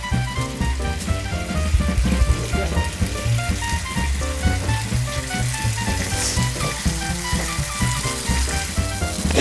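Bread cooks for Andalusian migas in a frying pan of hot oil, giving a loud continuous sizzle and crackle with bursts of spattering and occasional stirring scrapes.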